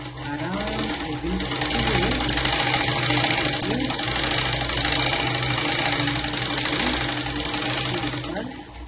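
A sewing machine runs long stitches along a blouse sleeve with a steady, close, continuous whirring hum that lasts the whole stretch without pause.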